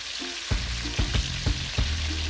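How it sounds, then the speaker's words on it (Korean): Seasoned dorado fish, coated in salt, chili powder, curry and starch, fries in hot oil with a steady close sizzle and a few bubbling pops spaced about half a second apart. "양념이 다 된 만세기는 기름에 넣고 튀기는데요"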